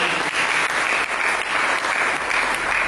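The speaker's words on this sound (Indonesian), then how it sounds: "Berikan tepuk tangan" A church congregation claps steadily through a sermon, a dense, continuous burst of applause from a large crowd at even loudness with no pauses.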